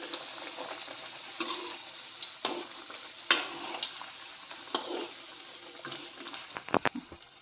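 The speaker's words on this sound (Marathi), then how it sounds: "आपण रोल नीट तळून घेऊया. बारीक गॅसवरच आपल्याला तळायचे आहेत रोल" Potato samosa rolls fry in oil over a low to medium flame, giving a steady bubbling crackle with scattered sharper pops and a few louder splutters near the end.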